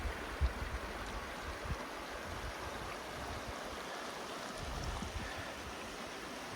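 The Conejos River runs beneath an old bridge at the edge of the South San Juan Wilderness in the Colorado mountains, giving a steady broadband rush of flowing water with faint low thumps and no voices.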